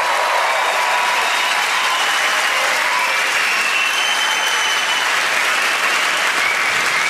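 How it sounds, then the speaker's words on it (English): A large comedy theatre audience claps loudly and continuously for Olympic athletes, a dense, steady wash of applause with no pauses. "Let's give them a round of applause"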